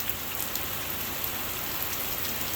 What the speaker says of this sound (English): It is pouring rain here.